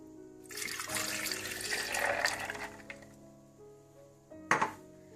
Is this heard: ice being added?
yes